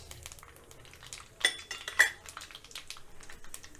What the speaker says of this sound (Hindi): उसी ऑयल में मैं अब मसाले को भूनूंगी।